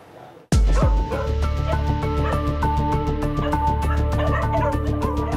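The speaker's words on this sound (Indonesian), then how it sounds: "Suara gonggongan anjing terdengar gaduh di halaman belakang" Several dogs bark noisily in a backyard, loud rapid overlapping barks and yips starting abruptly and continuing without pause, close to the listener.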